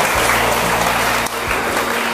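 An audience claps at a Buddhist monk's talk: loud, continuous clapping with a constant low hum underneath, a brief dip about halfway, then the clapping carries on to the end.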